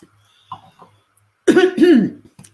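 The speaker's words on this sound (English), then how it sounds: "Try and clear my throat." A man clears his throat close to the microphone with a couple of soft rasps, then two strong, harsh throat-clearing bursts, and a faint trailing sound after.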